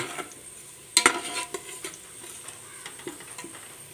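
Sliced onions frying in hot oil until brown for a tuna fish biryani, a soft sizzle broken by sharp scraping stirs of a spatula against the pan, with no talk.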